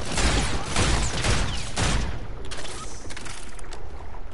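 Heavy gunfire in Call of Duty Infinite Warfare, with a loud opening volley of booming shots that gives way to quieter distant shooting and battle noise.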